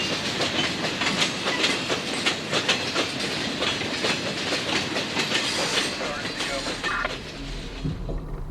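The Auto Train rolls on the rails near Sanford, Florida in 1982, with a loud continuous rumble and rhythmic clickety-clack of wheels over rail joints, a brief squeal near the end, and a voice speaking over it.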